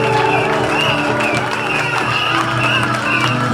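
Dense applause and cheering from a large congregation at a church gathering, loud and sustained throughout with crowd voices mixed in.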